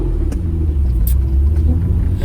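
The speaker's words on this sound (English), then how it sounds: "So we're driving the Alfa Romeo SZ" A 1991 Alfa Romeo SZ with a 3-liter V6 on the move, giving a steady low engine rumble and road drone from inside the car, with a few faint clicks and no clear revving.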